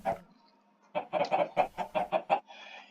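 Minecraft chickens laying eggs in a chicken room, a rapid run of close, clear clucks with a faint egg-drop pop at the end.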